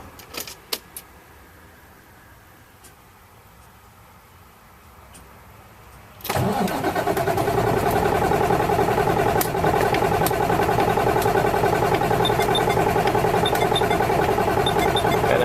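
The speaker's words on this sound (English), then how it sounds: "just crank the engine for 30 seconds." Keys jingle in a quiet space, then an engine turns over and catches abruptly, settling into a loud, steady idle rumble.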